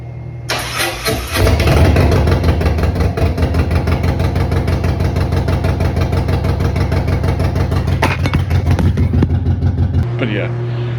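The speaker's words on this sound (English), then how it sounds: "First start, I don't have the exhaust on it." Harley-Davidson Road Glide with a Milwaukee-Eight engine and fresh cam swap fired up for the first time with no exhaust fitted: a brief cranking whir, then a loud, close, raw rhythmic idle that pulses steadily before cutting off.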